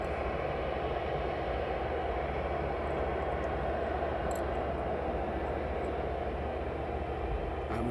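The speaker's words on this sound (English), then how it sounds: "This is Prime Air 73. With DHL 757 on the push." A DHL Boeing 757 on pushback at East Midlands Airport gives off a steady, dense engine drone and airport hum, constant and moderately distant, with no break across the whole stretch.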